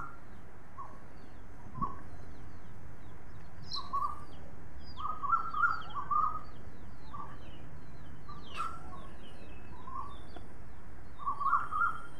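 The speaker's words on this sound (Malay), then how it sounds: "Bunyi dedaun digerakkan angin lembut bercampur dengan kicauan yang bersahutan." Scattered bird calls and chirps sound at intervals in the morning, some clucking, against a quiet, steady outdoor background.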